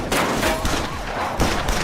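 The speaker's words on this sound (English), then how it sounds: "the scene explodes into a violent raid filled with gunfire." Rapid gunfire erupts during a police raid in a crime film scene, dense overlapping shots rattling in continuous bursts, loud and chaotic throughout.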